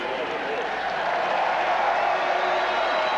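A stadium crowd of Auckland football fans cheers for the All Whites at a 1990 World Cup qualifier against Australia, a dense, steady roar that fills the whole stretch at a constant level.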